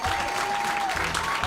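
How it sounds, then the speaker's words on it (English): A comedy show audience applauds steadily and densely for comedians, a continuous wash of clapping throughout. "Let's give a round of applause to all the comedians we saw."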